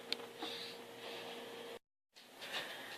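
A sewing machine stitching a bra gives a quiet, steady mechanical whir with fine ticking for almost two seconds. After a short silence it resumes at a similar low level.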